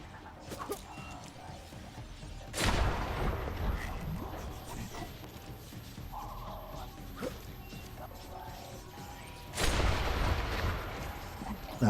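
Two heavy frag grenade blasts go off in the game Deus Ex: Mankind Divided, each a sudden loud crash with a rumbling tail, spaced several seconds apart amid quieter ambient noise and faint background sounds.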